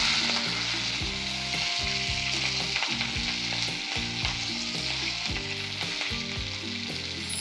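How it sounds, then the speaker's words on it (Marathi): Leafy greens sizzle steadily as they are stir-fried in a kadhai with browned garlic and green chilli, a continuous crackling hiss with soft stirring and a low musical backing underneath, no talk. "आता ही छान भाजी आपण परतून झालेली आहे लसूण हिरवी मिरची मध्ये."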